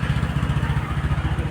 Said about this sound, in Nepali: अब यो बाइक निकाल्नुपर्छ